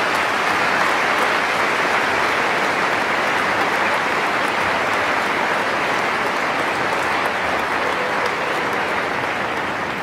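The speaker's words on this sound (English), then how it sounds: "Let's give them a round of applause," Large arena crowd at London Olympia applauding Valegro's owners during his retirement ceremony, a dense, steady wash of clapping that holds evenly for the whole stretch without a break.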